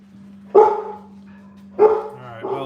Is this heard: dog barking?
yes